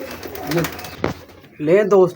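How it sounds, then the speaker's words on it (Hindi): Pigeons cooing up close in a breeder's loft, two rounded throaty coos separated by a sharp click, loud and near. "माशाल्लाह सारे तगड़े कबूतर हैं।"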